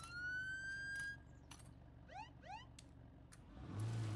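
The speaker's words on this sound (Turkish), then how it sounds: "Geliyorlar mı acaba siren sesine?" An in-game siren in the zombie survival game State of Decay 2 gives two quick rising whoops in the middle, after a thin sustained electronic tone. The sound is fairly quiet over a low background.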